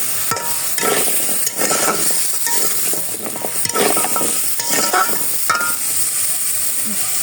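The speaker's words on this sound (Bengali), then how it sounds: "ধনিয়ার গুঁড়া, জল দিয়ে ওখানে কষিয়ে নেব একটু।" Coriander powder cooks down with water in a pan, a continuous bright sizzle with frequent stirring scrapes and clinks throughout, close-up and steady without talking.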